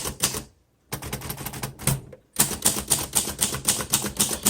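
A 1952 Royal Quiet De Luxe manual typewriter has its keys struck in steady, crisp runs of close clacks. The bursts are broken by short pauses, with a dense, even stretch of typing at the end.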